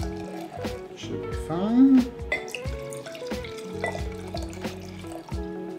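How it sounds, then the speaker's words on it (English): Rosé wine poured from a bottle into two glasses: a soft, steady liquid trickle with a brief rising gurgle as the glass fills, heard under a man's close speech and light kitchen clatter. "And I'm gonna pour two glasses worth"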